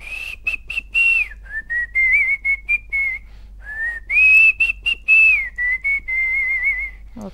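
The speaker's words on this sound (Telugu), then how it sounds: "ఈ విజిల్ కొత్తనే వేసారు" A man whistles a newly composed song melody alone, with long sustained tones rising and falling in phrases and short pauses between them, close and clear.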